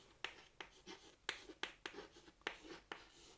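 Pen scratching across paper while working a maths problem on points of intersection, in short separate strokes with quiet gaps, close and soft, no talk.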